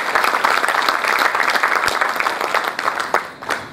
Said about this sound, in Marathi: त्यांच्यासाठी जोरदार एकदा टाळ्या होऊ द्या